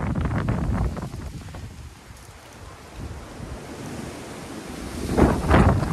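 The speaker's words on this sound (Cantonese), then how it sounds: "好大風啊，係依家好大風" Strong gusts roar through trees in Birmingham, England, during a February 2022 storm, a continuous close buffeting rush over the microphone that dips briefly and then surges louder near the end.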